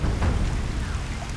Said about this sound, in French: Et en plus, il pleut.